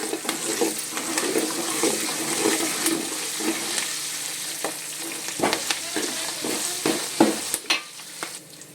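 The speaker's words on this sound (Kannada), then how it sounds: "ಕರಿಬೇವು ಒಂದು ಸ್ವಲ್ಪ ಹೊತ್ತು ಫ್ರೈ ಆಗಲಿ." Curry leaves frying with garlic and peanuts in a pan for kaccha chivada, a loud continuous sizzle and crackle with repeated stirring scrapes and clacks, with no talk.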